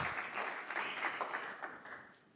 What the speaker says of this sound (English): So, thank you, your applause.